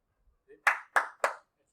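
Three sharp hand claps in quick succession, close and crisp, each with a short decay, after a couple of faint soft sounds.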